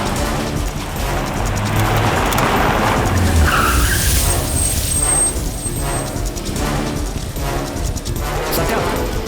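A car in an action movie scene pulls away fast and skids, tyres squealing midway over loud engine roar, with dramatic score and voices mixed in throughout.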